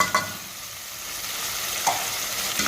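Onion, garlic and ginger paste frying in a pan for beef haleem, a steady close sizzle with a couple of brief scraping stirs near the start and again toward the end.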